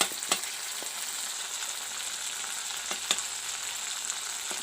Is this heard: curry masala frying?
yes